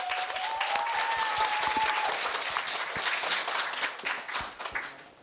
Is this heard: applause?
yes